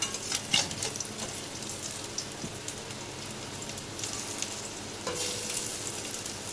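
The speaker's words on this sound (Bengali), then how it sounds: "মাছের ডিমের বড়াগুলো দিয়ে দিয়েছি, একসাথেই দিয়ে দিয়েছি, হয়ে যাবে" Fish roe fritters sizzle and crackle steadily in hot oil in a pan, a continuous close frying hiss with small pops and occasional louder spatters, no voices.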